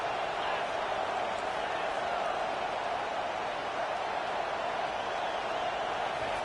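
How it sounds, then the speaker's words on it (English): A football stadium crowd roars on third down, a dense, steady wall of cheering and noise holding loud throughout without a break. "Decibels rising as the crowd gets behind this defense on third down."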